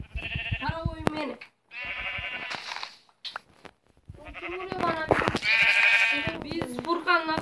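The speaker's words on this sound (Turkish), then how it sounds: "Oğlum burada bir sürü koyun var lan." Sheep in a Minecraft survival game bleat repeatedly in short wavering calls, several overlapping and close, with players talking over them.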